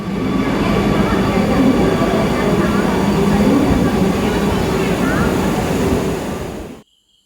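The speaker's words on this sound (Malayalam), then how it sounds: "ഇതാണ് നമ്മുടെ മെട്രോ വന്നു" Kochi metro train arriving at a station, a loud, steady rumble and rolling roar that holds for about seven seconds before cutting off abruptly, with faint voices in the background.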